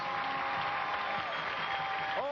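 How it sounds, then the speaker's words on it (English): A TV studio audience gives a round of applause, a steady dense wash of clapping at moderate level throughout, with a faint sustained tone beneath and a short gliding sound at the very end. "let's have a round of applause for Nadine, and also for Bruce."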